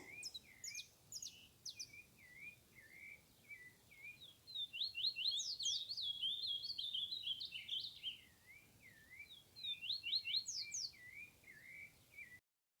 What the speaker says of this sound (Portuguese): Terceiro som, então, foi dos passarinhos cantando.